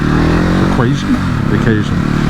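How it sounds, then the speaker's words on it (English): Ducati Hypermotard 950 SP motorcycle engine blipping on a downshift, a loud steady engine drone with quick revving rises mid-clip, heard close under someone talking. "The downblip on this bike is so good."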